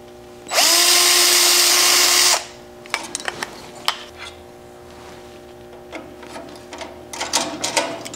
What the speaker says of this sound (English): I'll drill this on the drill press and then come back and use those as guides to drill through the wood